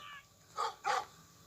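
A dog in the video game Schoolboy Runaway gives two short, sharp barks in quick succession, moderately close, over a quiet background.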